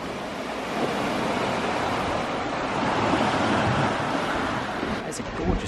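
Surf breaks steadily on a beach near Portscatho in Cornwall, a broad continuous wash heard from above on a clifftop path with wind buffeting the microphone.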